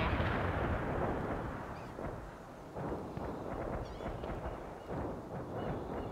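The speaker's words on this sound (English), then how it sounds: "More barrage." A heavy artillery barrage booms in World in Conflict, a Cold War strategy game, with repeated muffled thuds and rumbling blasts rolling in a steady rhythm at a distance.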